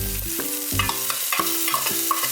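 Peas, corn and pineapple stir-fry in garlic and scallion oil, with a steady sizzle and rhythmic scraping strokes of a spatula against the pan. The sound is close and even throughout, with no voices.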